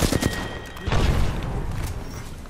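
A frag grenade goes off in a first-person shooter game, a booming burst roughly a second in, with dense crackling gunfire and game noise running throughout.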